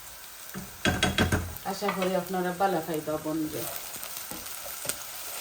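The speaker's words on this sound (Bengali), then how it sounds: "আগে পেঁয়াজগুলো ভাজা হয়ে যাক।" Onions fry in a pan with a soft, continuous sizzle and occasional stirring, largely beneath a person talking for most of the stretch.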